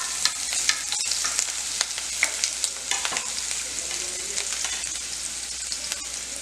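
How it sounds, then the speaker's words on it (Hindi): Chopped ginger frying in hot oil for a carrot and potato curry, a steady, close crackling sizzle dotted with sharp pops, with occasional clicks of stirring. "इसमें अब हम कटा हुआ अपना अदरक डालेंगे।"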